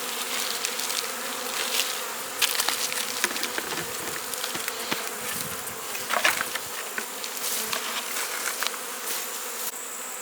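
Dense, steady buzzing of many honey bees around an opened hive late in the day, close and constant for the whole stretch with faint handling noises and no talk.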